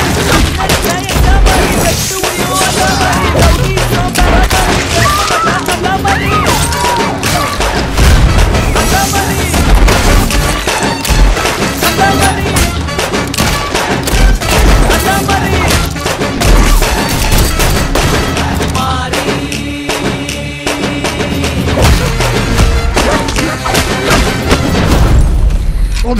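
Dense gunfire and booming explosions from a mashup of Quentin Tarantino film scenes, loud and nearly continuous, mixed with music and occasional voices.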